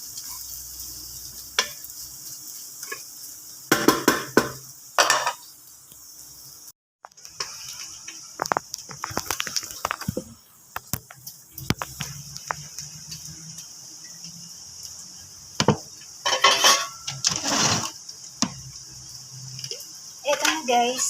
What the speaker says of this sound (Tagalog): isot na natin ang Chinese sausage together with the ginger and garlic. Palabasin natin yung mantika.